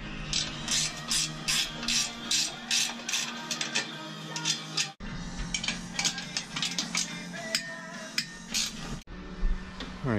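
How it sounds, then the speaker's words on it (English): A ratcheting wrench works off a truck's spare tire mount hardware in a run of quick metallic clicking bursts, with short pauses and a clatter of loose parts between the turns. "I'm going to grab my ratcheting wrenches and we're going to go ahead and remove that spare tire."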